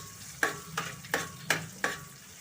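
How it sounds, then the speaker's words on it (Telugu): Chopped onions with urad dal and seasoning spices frying in oil for a raw coconut curry, a low sizzle punctuated by five sharp, evenly spaced spoon scrapes against the pan. "ఇలా గోల్డ్ కలర్లో వచ్చే వరకు వేగనివ్వాలి."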